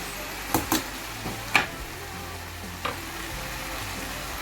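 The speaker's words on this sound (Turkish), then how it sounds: "O yüzden şimdi hemen bulguru ilave ediyorum." Bulgur poured into tomatoes frying in a pan for a pilaf, giving a few soft sizzling, scattering bursts and quiet stirring scrapes over a low steady fry, with no talk.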